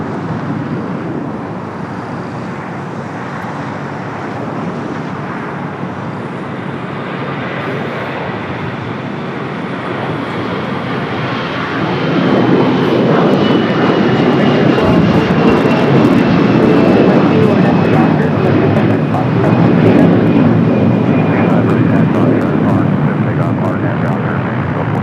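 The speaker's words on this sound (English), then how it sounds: "We got that Air Canada A321 now rolling down at 25 right" Air Canada Airbus A321 jet rolling for takeoff on runway 25 right at LAX, a broad engine roar that swells louder about halfway through and holds steady, with a faint voice over it.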